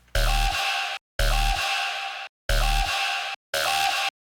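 Four loud, booming bass hits with full low end, each ringing about a second before cutting off, separated by short silences.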